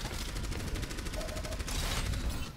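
Rapid automatic gunfire in the Overwatch shooter game, a dense close burst of fast repeated shots running for a couple of seconds with no talk.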